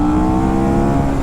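A 2015 KTM Superduke Gen 1 motorcycle engine, about 180 horsepower, drones loud and close in a sustained steady rev while riding, with no talk over it.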